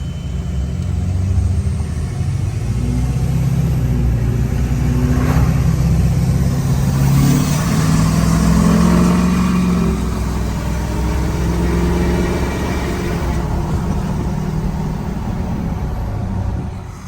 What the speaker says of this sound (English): I know I am loving the 5-inch exhaust. It sounds so much better